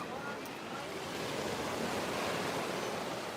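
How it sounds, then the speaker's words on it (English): Surf on the Baltic Sea at the resort town of Zelenogradsk in the Kaliningrad region, a steady broadband wash of waves with wind noise across the microphone, continuous and fairly loud with no break. "This is a Baltic Sea, okay?"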